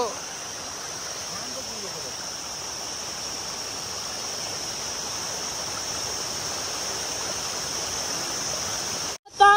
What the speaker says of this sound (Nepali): यही हो है झरना